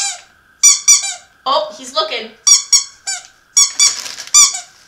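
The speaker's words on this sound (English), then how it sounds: "he comes right over for the squeaky toy" A squeaky dog toy squeaks in sharp repeated bursts, some in quick pairs, loud and close, alongside brief speech and a pet's movement.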